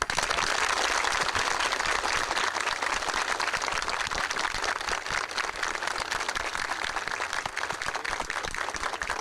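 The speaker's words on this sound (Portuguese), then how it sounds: "Pediria uma salva de palmas a Orígenes Lessa, o que o bem merece." An audience gives a sustained, dense round of applause honoring the writer Orígenes Lessa at a tribute gathering, steady and loud across the full stretch with no pauses.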